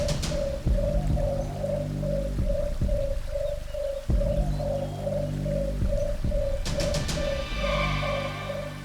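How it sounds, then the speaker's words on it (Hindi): Repeated tonal bird calls ring out in a dense jungle, a steady series of hoots or coos roughly every half second, loud and close over a low rumbling background. "ये पक्षी तो निशाचर पक्षी नहीं?"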